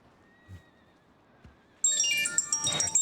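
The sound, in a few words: horse in a video game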